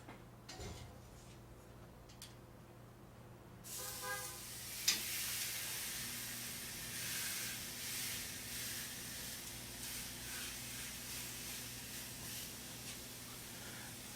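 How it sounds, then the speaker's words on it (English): Wagyu tri-tip hits hot grill grates on a Yoder flattop, a sudden loud steady sizzle and hiss that holds on close without letup over a low background hum. "So I'm going to grab the Tri-Tip and put it on the grates."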